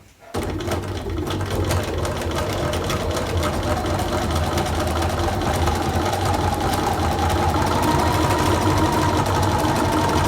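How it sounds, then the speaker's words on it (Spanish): A sewing machine runs a continuous straight stitch through patchwork fabric, whirring steadily and loudly from start to finish with no pause. "Una vez que hemos cosido un lado, levantamos el prensatelas y sin cortar el hilo podemos coser exactamente igual el otro lado."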